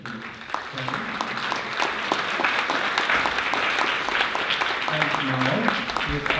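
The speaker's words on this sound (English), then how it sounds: "I would like to ask you for a round of applause" A conference audience gives a panel a round of applause, a steady crackle of many hands clapping at moderate distance that runs throughout, with a voice speaking over it near the start and again toward the end.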